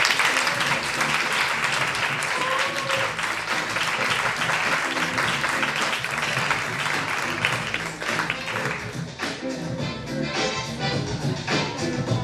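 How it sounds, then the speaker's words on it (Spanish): Loud, sustained audience applause at a poetry slam in Marcilla, a dense wash of clapping that holds steady for about twelve seconds and thins slightly toward the end. "Voy a pedir un fuertísimo, fuertísimo aplauso para el organizador, actual presentador y hoy participante, Jorge."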